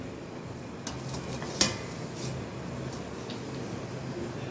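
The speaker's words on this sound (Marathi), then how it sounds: "असं झाकण ठेवायचं" A metal lid is set down onto a pot of steaming taro leaf rolls with a single sharp clink, over a low, steady background hiss, close by.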